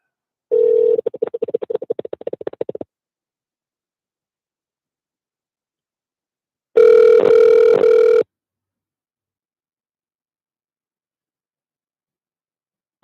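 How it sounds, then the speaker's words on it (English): Telephone ringback tones on a call line, a steady buzzing ring burst near the start and a second, louder and harsher burst later, separated by silence, with no talking. "I'm just going to keep calling until I get somebody on the phone."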